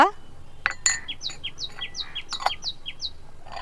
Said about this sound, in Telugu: ఆ పిట్ట చూసారు అలాగ అరుస్తుందో